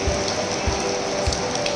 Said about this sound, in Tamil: இன்றைக்கி கோடை திருவிழாவில் கோடை மழை பெஞ்சிருக்கு